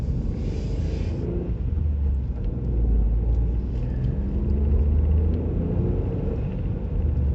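Ford Fiesta Trend 1.1 petrol hatchback picking up speed on a road, a steady low engine rumble with road and wind noise swelling slightly midway, close and continuous with no talk.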